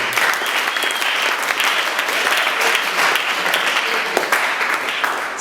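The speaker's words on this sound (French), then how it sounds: "On va applaudir." An audience claps for committee members at a training session, a sustained burst of dense applause from a crowded room, loud and even from start to finish.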